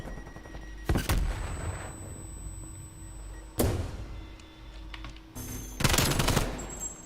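SMG fire in an esports shooter match, three separate loud bursts of rapid shots spaced a few seconds apart over a quieter game background, with no talk.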